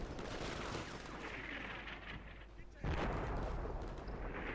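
Gunfire and artillery in the wargame Combat Mission Shock Force 2, a dense continuous rumble of distant shots and blasts that drops briefly near the end, then returns louder.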